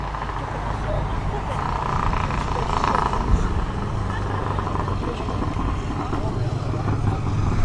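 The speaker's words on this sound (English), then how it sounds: "I can hear quite a throaty sounding motorbike driving across." A throaty motorbike engine rumbles steadily as it rides past at a distance at a vintage bike and classic car show, mixed with general traffic noise and someone talking over it.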